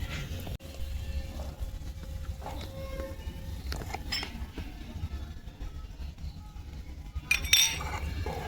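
Eggless fruit cake batter is mixed in a bowl, with a utensil clinking and scraping against the sides in irregular taps over a soft background and a brighter clatter near the end.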